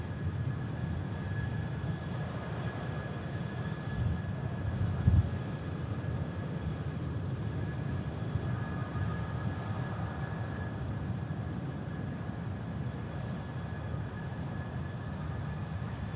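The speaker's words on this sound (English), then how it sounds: "They're putting that aircraft through its paces in the engine run-up bay" A Jet2 jet aircraft running its engines in the run-up bay at Manchester Airport, a steady distant roar with a faint whine held for the whole stretch.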